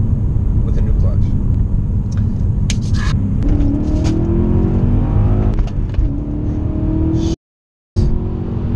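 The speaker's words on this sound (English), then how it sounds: "first pull in my E39 M5 with a new clutch." A BMW E39 M5 with a new clutch accelerates hard on its first pull, its engine rumbling and rising in pitch through the gears, loud and close, with a brief dropout near the end.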